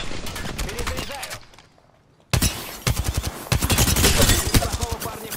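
Rapid bursts of video game gunfire, loud and close, with a short pause in the middle before the shooting resumes at a faster rate.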